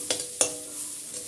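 Onions and garlic with a pinch of turmeric frying in a pan, two sharp scraping stirs over a faint, low sizzle, close by and without speech.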